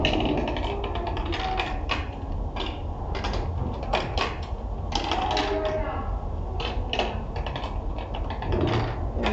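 Marbles roll and clatter along a marble track and its elevator, producing rapid irregular clicks and rattles in busy bursts, fairly close, with occasional quiet voices in the background.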